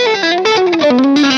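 Electric guitar played through a Fractal Axe FX II XL high-gain patch, heard alone as a loud, sustained distorted melodic line with effects, the notes gliding and stepping downward.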